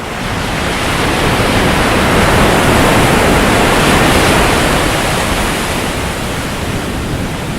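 Ocean water surges into the Horn rock formation at Yachats, Oregon and spouts up, a loud, continuous broadband roar of churning surf that swells slightly mid-way and holds steady for several seconds, with some wind on the microphone and no speech.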